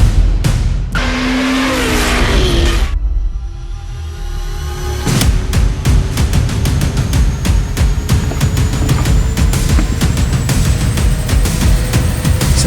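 A Fiat Stilo Abarth's engine fires up after a brief whine, then settles into a loud, close, steady idle with rising revs and a sharp, ticking rhythm running throughout, no voices over it.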